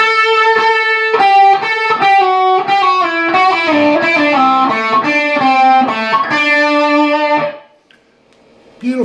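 Distorted electric guitar plays a fast lead line, a quick run of picked and bent notes ringing loud and close, then it stops and leaves a short hush.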